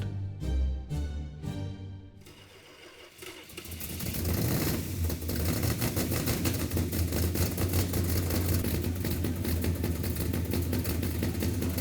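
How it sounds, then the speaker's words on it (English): Hemi V8 engine for a Cuda tribute build fires up on an engine run stand, a few sharp cranking bursts giving way to a loud, steady, rumbling idle that carries on alone. "And fired it up on the engine run stand."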